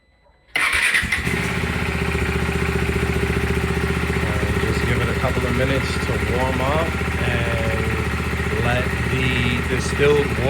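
A 2023 KTM RC 390 motorcycle fires up after a brief silence and settles into a steady, close idle for the rest of the clip, its engine running with fresh Engine Ice coolant.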